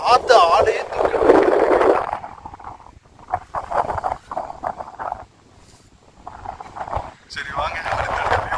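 Strong gusts on an open hilltop viewpoint with windmills at Ramakkalmedu, buffeting the microphone in loud rumbling bursts that drop away briefly, while a person talks over them.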